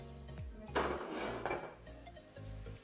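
A bowl of freshly whipped cream picked up and handled, giving a hollow knock and a brief scraping rattle of bowl and utensil, close by with no talking.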